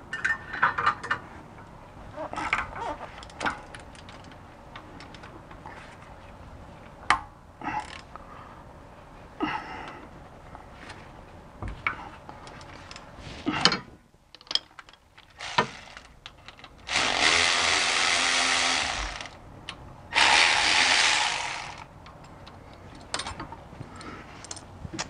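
A power screwdriver driving bolts during a BMW E46 differential swap, heard as two loud, sustained whirring runs near the end, preceded by scattered metallic clinks and taps of work on the car.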